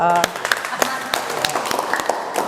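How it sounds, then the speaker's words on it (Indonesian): Students in a class clap, a brief burst of scattered, uneven hand claps with a voice speaking over the start. "Tepuk tangan untuk"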